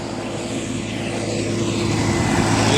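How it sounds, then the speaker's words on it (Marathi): A small tractor engine runs steadily on a farm, a loud continuous drone with a constant hum that grows slightly louder toward the end, with no voices. "छोटा ट्रॅक्टर"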